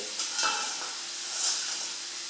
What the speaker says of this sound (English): Right, so the mince It's getting some nice colour into it. And we're just heating it up slowly.